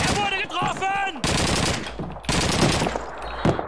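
Rifle and automatic gunfire in Call of Duty 2, a World War II shooter, with a Veteran-difficulty prisoners-of-war mission; loud rapid bursts fill most of the moment, separated by brief lulls, with faint shouted voices mixed in early.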